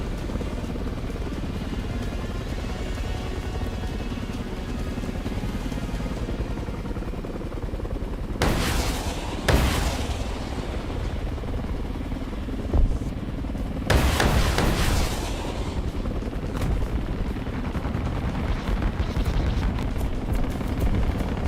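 War Thunder gunfire and explosions during a helicopter battle, heavy booms bursting out twice amid constant rumbling combat noise, with sharp impacts near the middle of the stretch.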